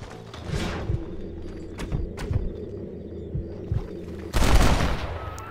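Gunshots from a Red Dead Redemption game, a handful of sharp scattered cracks over a busy game soundscape with hoof-like thuds, ending in a louder, denser burst near the close.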